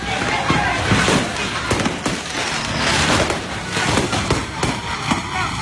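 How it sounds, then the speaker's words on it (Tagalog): A dense, continuous crackle of firecrackers popping and bursting as a fireworks shop burns, loud and chaotic, with people's voices faintly mixed in. "narinig ang malakas na pagsabog mula sa isang nasusunog na tindahan ng paputok"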